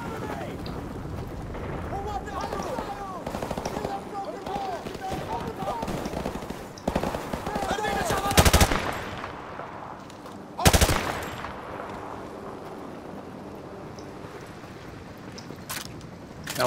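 Rapid machine gun bursts crackle during a Marines firefight in the Call of Duty: Modern Warfare Remastered campaign on Veteran difficulty, with louder sharp volleys standing out partway through and voices mixed into the chaotic battle.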